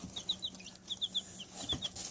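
A young light-colored rooster clucks in quick runs of short, soft, chirpy notes, three or four at a time with brief pauses, quiet and fairly close against faint background noise.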